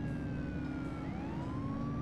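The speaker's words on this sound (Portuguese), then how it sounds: "E o bom é que a galera respeita a sirene" Police car siren wailing in the video game The Precinct, a steady rising and falling tone over continuous engine and road rumble, loud and close throughout.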